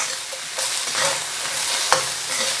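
Whole squid and vegetables stir-fry in a wok with only a little oil for a spicy dish, giving a steady, close sizzle and hiss with occasional scraping stirs and one sharp clack, without any talking.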